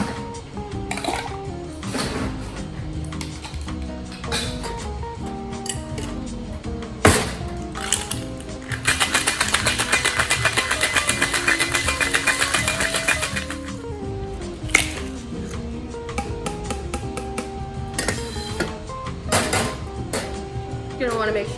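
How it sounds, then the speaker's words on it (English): Ice rattles hard inside a cocktail shaker in a fast, steady burst of about six seconds near the middle, with music and scattered clinks around it. "You're going to want to make sure that you're shaking your cocktail enough just so you're getting 2 ounces of dilution in there."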